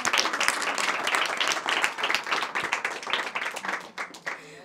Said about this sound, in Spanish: Muy bien, vamos a darle un aplauso.